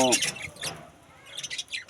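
Pet birds in a cage chirp in quick bright bursts at the start and again near the end, close and fairly loud, with a quieter gap between.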